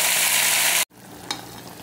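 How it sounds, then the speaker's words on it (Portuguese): Meat sizzles in a tightly covered pan, a loud steady frying hiss that suddenly cuts out, then quieter sizzling continues with a brief clatter. "agora eu vou deixar fritar, soltar água."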